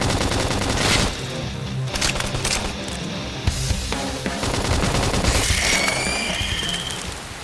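Rapid gunfire in the Xenoblade Chronicles X video game, loud bursts of shots and booming impacts in quick succession during a battle, with a voice shouting briefly.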